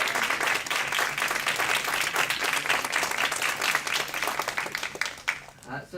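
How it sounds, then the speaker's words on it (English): At a school board meeting, an audience claps for committee members, steady and dense for about five seconds, then thinning out and fading at the end. "can you just wave your hand and we can clap for you as well"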